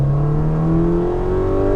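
Ferrari Portofino M engine while driving gently on the throttle in wet conditions, a loud, close, steady engine drone whose pitch dips and then climbs smoothly as it accelerates through a gearshift.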